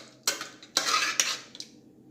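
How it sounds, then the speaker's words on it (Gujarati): A masher strikes boiled vegetables for pav bhaji in a pan, giving three or four distinct clattering knocks spaced about half a second apart. The knocks are close and sharp, and they fade toward the end. "આ રીતે મેશ કરશો તો ફટાફટ શાકભાજી બની જશે આપણી પાવભાજી"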